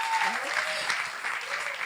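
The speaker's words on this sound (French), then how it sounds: "Est-ce que tu peux acclamer pour le Seigneur?" A church congregation applauds and cheers for the Lord during a pastor's service. The clapping and voices form a steady, moderately loud wash that continues under faint talk.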